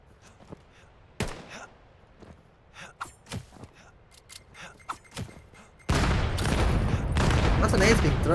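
Gunfire and grenades in a competitive video game match, with scattered sharp shots and clicks, then a sudden dense roar of sustained fire and explosions near the end.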